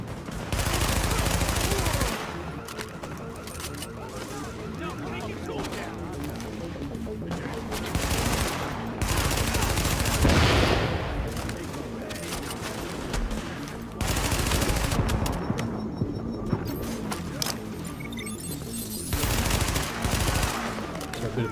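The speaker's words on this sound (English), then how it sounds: "A bit of blind firing just around the corner." Gunfire from The Division video game, with blind firing around a corner: repeated loud bursts of automatic shots come in clusters over a steady background, with brief quieter gaps between volleys.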